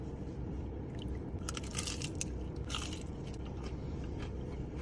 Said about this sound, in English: Keto birria taco. The shell is made of crispy cheese.